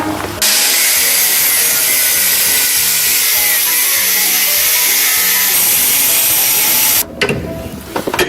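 A power tool cuts a hole in a smooth extruded plastic pipe, one loud continuous high-pitched whine lasting about seven seconds before it stops abruptly, very close to the microphone.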